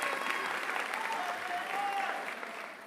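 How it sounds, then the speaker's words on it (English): Applause for teachers at a graduation ceremony: a large seated audience claps in a broad, continuous wash that fades slightly near the end, with faint voices faintly under it. "So I think we owe them a round of applause also."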